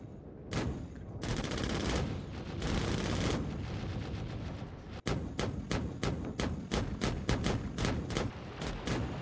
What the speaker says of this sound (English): We're getting shot pretty bad.